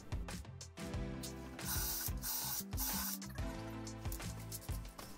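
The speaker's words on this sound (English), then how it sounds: "Here we're assembling the entire box with some wood screws." A power driver sinking wood screws into a 7mm plywood box, whirring motor bursts that rise and stop in short repeated runs with mechanical ratcheting, heard close and fairly quiet.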